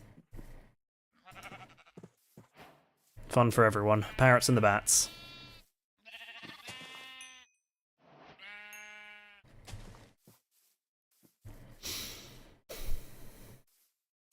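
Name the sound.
sheep bleating in the video game Minecraft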